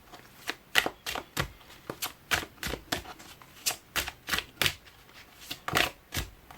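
A deck of oracle cards is shuffled close up, a steady run of crisp riffling flicks about twice a second, with nothing else heard.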